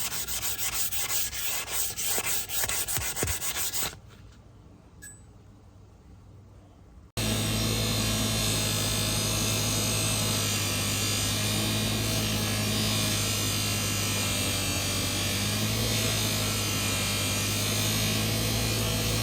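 A buffing wheel with brown rouge grinds against a motorcycle fork leg with a loud, steady abrasive rush, briefly easing off before resuming continuously; close and without speech.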